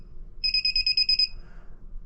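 A Xin Tester digital circuit breaker finder gives a steady run of fast, shrill electronic beeps for under a second, then stops, leaving a low background hum and a fainter tone.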